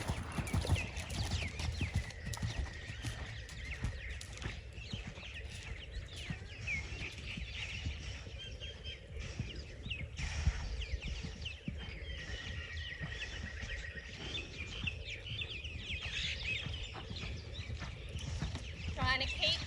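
Horse hooves clip-clop steadily on an arena surface during flatwork schooling at home, with a rider talking over the rhythmic footfalls and faint birds in the background.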